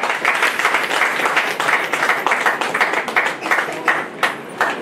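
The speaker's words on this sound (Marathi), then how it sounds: "जोरदार टाळ्या झाल्या पाहिजेत." An audience at a state-level award ceremony breaks into loud, sustained applause with dense clapping that continues for several seconds and fades slightly near the end.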